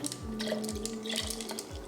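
Water pours into a pitcher while mixing a fall sangria with Moscato, a steady liquid splash lasting about two seconds without pause.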